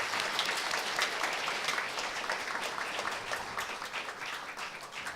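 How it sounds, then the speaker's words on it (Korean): Steady audience applause at the 13th Kyungam Prize award ceremony, many hands clapping continuously at moderate distance for the whole stretch. "다시 한번 큰 박수 부탁드립니다"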